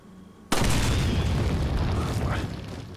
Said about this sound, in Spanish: Pilla con la explosión a dos cuervos.